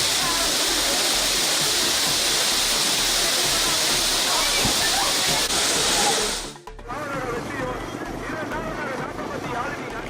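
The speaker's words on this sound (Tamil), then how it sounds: "அகஸ்தியர் அருவியிலும் குவிந்த ஏராளமான சுற்றுலா பயணிகள் அருவியில் குளித்து மகிழ்ந்தனர்" The Agasthiyar waterfall roars loudly and steadily as crowds of tourists bathe beneath it, then the rushing noise cuts abruptly to a quieter, more distant wash of water and crowd sounds.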